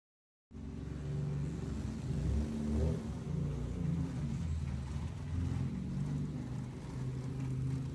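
Tuned 9th-generation Honda Accord making over 600 wheel horsepower runs steadily with a deep, continuous engine drone, loud and close, with a slight swell partway through and no talking.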